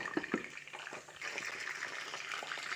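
Water pours onto rice in a tagine, a soft, close splashing stream with a few small knocks at the start.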